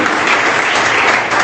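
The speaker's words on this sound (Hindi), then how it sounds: "तालियां हो जाए।" Sustained, loud applause from an audience at a talk on addiction, dense steady clapping filling the whole moment without pause.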